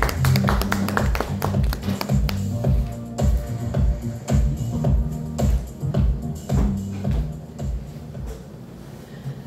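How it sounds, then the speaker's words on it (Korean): Scattered hand claps and taps sound close by over thumping low music as a master is welcomed onto the stage at a Global Atomy Korea seminar. The claps come in uneven bursts that thin out toward the end. "큰 박수로 맞아주세요"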